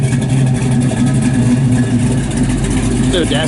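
Close, loud engine drone from a 1969 Chevrolet Camaro RS/SS 427 with four-speed, a steady low rumble under someone talking.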